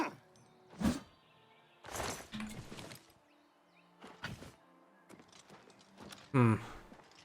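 Horse hooves clip-clopping in the Oblivion Remastered video game, a few separated quiet thuds spaced irregularly across a soft background, ending with a louder burst.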